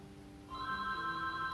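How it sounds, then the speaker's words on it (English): A telephone starts ringing partway through, a bright electronic trill repeating steadily over a faint low background hum. "I wonder who's on the phone."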